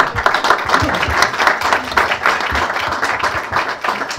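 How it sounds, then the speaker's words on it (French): An audience at a Sufi music festival in Paris applauds steadily, dense clapping from many hands sustained at moderate loudness for over four seconds. "On les applaudit encore une fois."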